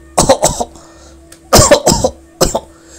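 A man smoking a hand-rolled tobacco cigarette coughs in three close, harsh bursts, each a short cluster of hacking coughs separated by pauses, loud and near.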